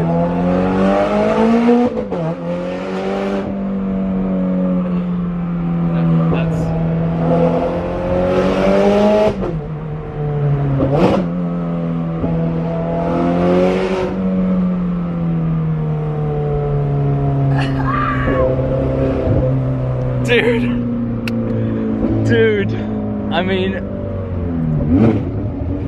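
A Ferrari 430 Scuderia with a straight pipe exhaust drones loudly and continuously, its pitch swelling and dipping through repeated revs and gear changes while people talk over it.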